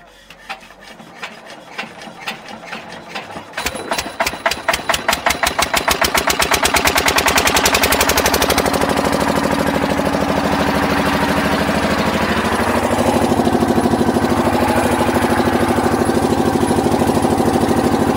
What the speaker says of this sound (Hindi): जिसके कारण अभी जनरेटर आया हुआ है, तो इसको भी कनेक्शन करके जल्दी से हम लोग मोटर को ऑन करते हैं